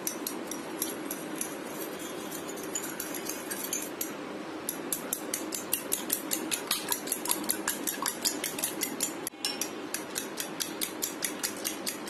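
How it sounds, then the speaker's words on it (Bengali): Fork beating three eggs in a bowl for a quick breakfast dish, a steady fast run of close, bright metallic clicks and taps against the bowl, continuous and regular with no talking. "এখন একটা কাঁটা চামচ দিয়ে ডিমটাকে একটু ফেটিয়ে নিতে হবে।"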